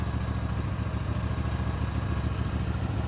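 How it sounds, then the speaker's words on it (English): A forgotten barn-find ARGO 6x6 amphibious vehicle idles very low and rough, a close, steady low rumble with a pulsing vibration as the engine struggles near stalling. "I don't think this engine's made to idle that low. See there, she wants to die out."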